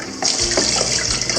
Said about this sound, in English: I just get the mung beans and basmati rice and just rinse them until the water runs clear